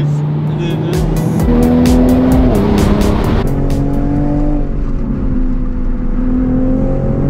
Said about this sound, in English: Just pushing the Focus as hard as he can.